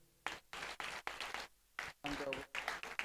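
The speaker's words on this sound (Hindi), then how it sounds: "अगर आप ताली बजाएं तो आपको भी अच्छा लगेगा." An audience at a Vyasa Puja celebration at ISKCON Delhi claps in uneven bursts separated by brief pauses, with a voice emerging near the end.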